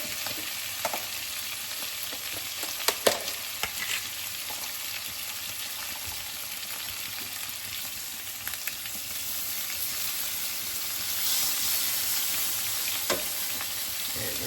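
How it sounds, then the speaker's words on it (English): Bacon fat sizzles steadily in a pan before green beans go in, a constant close crackling hiss with a few soft clicks and scrapes scattered through it. "for my green beans, I'm gonna add a little bacon fat."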